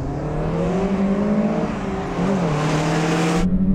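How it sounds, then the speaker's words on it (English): VW Golf GTI cars, including a 16-valve model, accelerate hard side by side in a drag race, with loud rising engine roar and a brief dip for a gear change before the revs climb again, then cut off abruptly. "Shall we get on with this drag race?"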